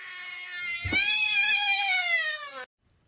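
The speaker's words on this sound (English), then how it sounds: "lightly touch the cat on the base of the tail, and it will make a sound" A cat touched at the base of its tail lets out one drawn-out, whiny meow, close and clear, rising then sliding down before cutting off abruptly into silence.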